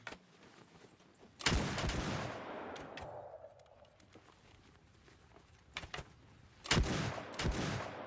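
Gun troops fire volleys in a Mount & Blade 2 Bannerlord battle, Shokuho samurai mod: loud crackling bursts of massed musket fire at a few points, with quieter battle noise and distant pops between.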